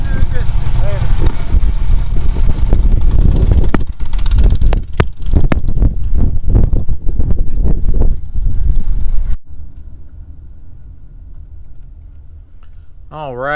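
A Harley-Davidson motorcycle pulls away and rides off, its engine a loud, rough roar for several seconds before dropping sharply to a much quieter distant rumble, mixed with wind buffeting the microphone.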